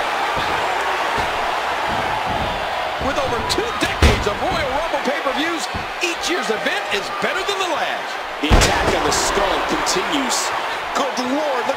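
Wrestler Steiner slammed hard to the mat in WWE 2K14, a couple of heavy thuds standing out over continuous crowd noise and commentary talk.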